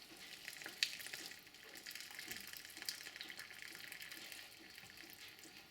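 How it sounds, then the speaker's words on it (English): Boiling water poured from a kettle into a pot of cock-a-leekie soup with chicken and vegetables, a steady soft splashing and hiss that runs evenly throughout, heard close and fairly quiet. "I'll just top it up with some boiling water out the kettle"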